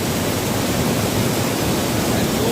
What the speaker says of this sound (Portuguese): olha a quantidade de água que tá descendo do beco